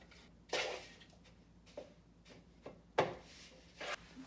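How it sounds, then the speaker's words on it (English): A spoon scraping and clinking against a bowl while power ball ingredients are mixed, in a few separate bright, fairly quiet knocks with brief pauses between them. "I'm gonna put it in the bowl and mix it and see if I can get it really good."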